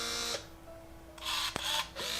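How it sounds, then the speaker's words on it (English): A single sharp, quiet mechanical click of a point-and-shoot film camera shutter, close by, set between bursts of whirring motor noise. "that's the sound of the shutter"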